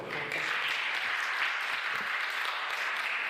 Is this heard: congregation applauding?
yes